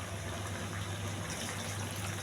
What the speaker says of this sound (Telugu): మొత్తం ఇంకో గ్లాసు వాటర్ వేయాలి